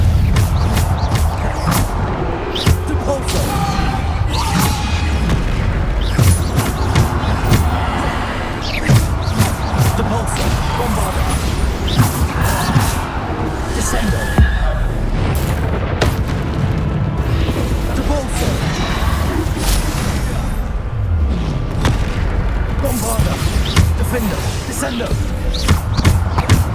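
Bombarda explosion spells going off in a magical Hogwarts Legacy combat scene, with repeated booming blasts layered over busy game noise and a voice talking throughout.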